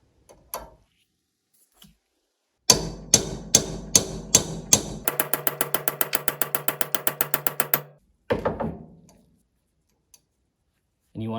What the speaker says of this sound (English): you want to hammer the bushing in until the bottom portion of the bushing is perfectly aligned with the bottom mold of your bell housing casing